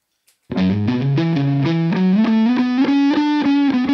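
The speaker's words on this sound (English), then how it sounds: "I'm gonna play the bass guitar. The Hoffner." Hofner bass guitar played through a distortion effect, a gritty, sustained riff of repeated picked notes that starts after a brief pause and stays loud and steady throughout.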